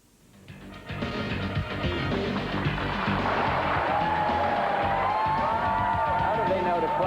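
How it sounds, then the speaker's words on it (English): A studio audience bursts into clapping and cheering after a quiet start, swelling within a second into a loud, sustained wash with whoops, voices mingling in. "How do they know to clap?"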